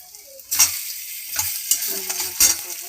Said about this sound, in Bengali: সেভাবে নাড়াচাড়া করে নিতে হবে, মিশিয়ে নিতে হবে।